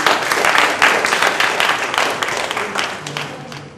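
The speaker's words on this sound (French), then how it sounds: "On applaudit." Steady applause from an audience at a French spelling competition, dense and continuous clapping at a fairly loud level that eases off slightly toward the end, with a voice briefly audible underneath.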